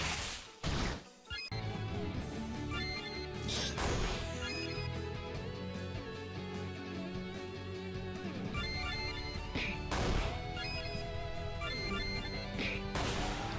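Heavy smashing blows land on the stool king, a boss in a video game battle, with a few sharp crashes rising above steady, loud game music.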